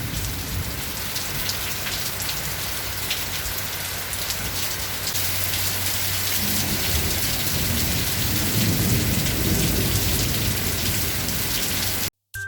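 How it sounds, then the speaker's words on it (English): Heavy torrential rain pours steadily at Khairabera in Purulia, a dense loud hiss close by, while low thunder rumbles underneath and swells in the second half before cutting off abruptly. "I hope you can hear the rumble of thunders."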